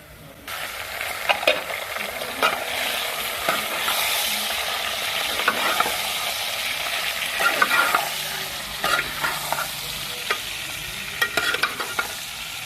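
Chicken fries with browned onions for biryani, a loud, constant close sizzle broken by frequent spoon scrapes and stirring clatter, with no talk.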